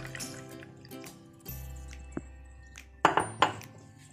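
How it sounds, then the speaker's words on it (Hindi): Cold milk going into a glass of ice cubes: a quiet trickle with soft drips and a few bright clinks of ice against glass, ending with two sharper knocks, all fairly faint and close with no talking. "अब मैं इसमें डाल रही हूँ ठंडा दूध।"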